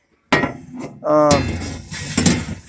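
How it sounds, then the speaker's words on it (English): Heavy-duty 3/16 gauge steel with welded handles clangs several times, close and loud, with a ringing metallic resonance after the strikes. "And you can hear by the sound of it that the steel is not cheap. You know, you're hearing a good clang."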